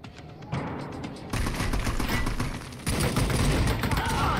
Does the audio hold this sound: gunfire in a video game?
yes